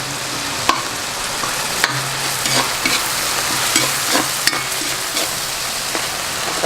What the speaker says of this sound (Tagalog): Haluin lang natin siya ng mabuti.